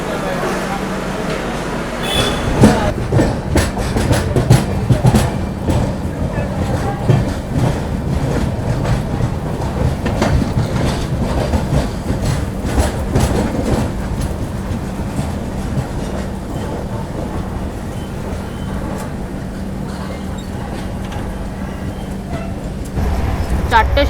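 Train at Brahmapur railway station on a Chennai to Kolkata journey. Steady rumbling, rattling rail noise fills the whole stretch, with a faint tonal hum and a voice talking over it.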